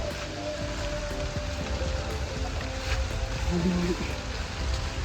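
Rain falls outdoors during a snakehead fishing trip, a steady broadband patter and hiss running the whole time while someone speaks briefly over it.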